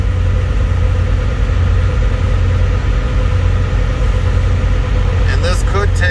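Truck engine running at raised RPM during a requested parked regeneration, with a loud, steady, close diesel rumble throughout and a few faint chirps near the end.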